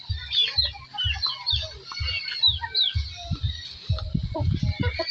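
Brooding hens settled in a backyard coop give low, repeated clucks and soft throaty murmurs, steady and close, with faint bird chirps above.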